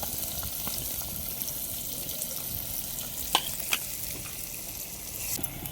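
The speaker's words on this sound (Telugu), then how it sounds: "ముందు ఈ ఉల్లిపాయ ముక్కలు వేసుకొని కాసేపు అలా మగ్గనివ్వాలి" Steady hiss of onions frying in oil, close and moderately loud, with a couple of brief spoon taps; no speech.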